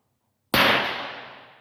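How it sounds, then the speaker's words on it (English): A single sharp shot from a .22LR scoped rifle, fired when the bolt is closed, cracks loudly after half a second of silence and fades out over about a second. "So I fire when the bolt is closed."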